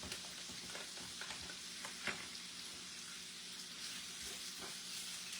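Bacon, smoked sausage and cabbage sizzle steadily in a pan, with a continuous crackling hiss and scattered pops and spatters, close by and fairly quiet.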